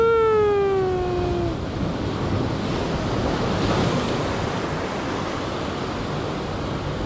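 Ocean waves crash continuously on a rocky shore during land-based rock fishing, a loud broad roar with wind buffeting the microphone, preceded by a brief falling whistle-like tone at the start.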